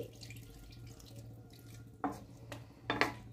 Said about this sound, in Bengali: এবার রান্না হওয়ার জন্য অল্প একটু জল দিচ্ছি